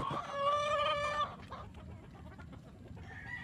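A molting hen clucks and cackles in a short burst of close, loud calls, then softer farmyard sounds follow with faint bird calls in the background.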